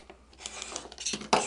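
Scissors snip through quilting fabric while trimming Pineapple quilt block pieces, a few short close cutting sounds, the last one loudest, with no talk.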